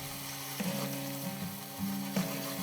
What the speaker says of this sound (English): Here's a little bit of white wine.